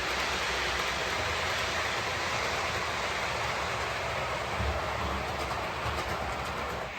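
Model railway trains running on a home layout, a Class 40 among them, giving a steady close rumble with faint rhythmic clicking, continuous and without talk.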